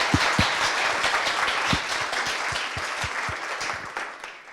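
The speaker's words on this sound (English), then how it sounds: "I think we need to give them another round of applause." An audience at a citizens' assembly in Greater Cambridge gives a full round of applause, dense steady clapping that fades gradually toward the end.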